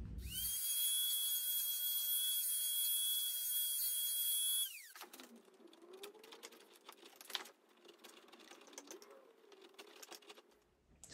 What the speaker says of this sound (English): And then now I'm just going to clean this up with the Dremel and chisels.